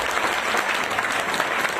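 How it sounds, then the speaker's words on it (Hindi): A crowd at an IMC business program in Raipur, Chhattisgarh breaks into loud, continuous applause, a dense wash of many hands clapping together for a couple of seconds with no talk over it. "जोरदार तालियां होनी चाहिए यार।"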